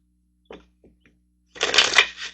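A few soft taps and flicks, then a brisk riffling burst of cards being shuffled for a tarot-style reading, close and fairly loud, with no talking.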